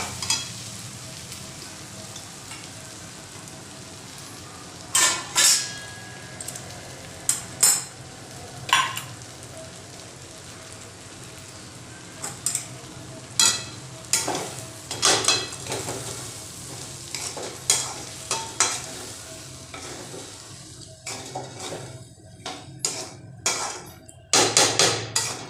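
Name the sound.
stirring and roasting semolina (rava) in pan for upma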